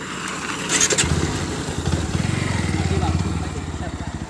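A new motorcycle, used for stunt and wheelie attempts, revs up nearby, settling into a loud, steady, pulsing engine throb while people talk over it.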